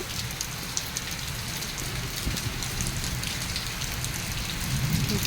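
Rain falls hard and steady close by, a dense patter of drops on surfaces that grows slightly louder toward the end.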